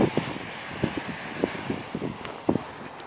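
Gusty wind in a wood buffets the microphone in low rumbling bursts, loud and close, with uneven thumps rising and falling.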